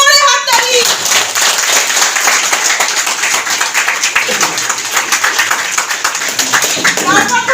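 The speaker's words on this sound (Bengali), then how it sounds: "সিও স্যারের জন্য জোরে হাততালি" A large audience at a company gathering claps loudly and continuously, a dense roar of hands, with voices and shouts heard at the start and end.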